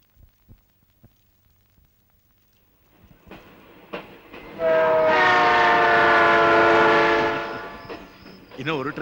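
A train approaches from near quiet, its horn blaring long and loud through the middle, with rumbling wheels underneath as it passes close by.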